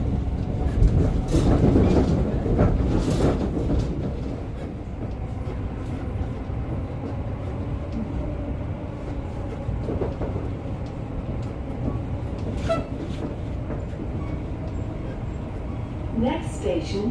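A London Overground Class 710 electric train accelerates with a steady rumble, motor whine and wheel noise, heard from on board, with a voice briefly audible over the running sound.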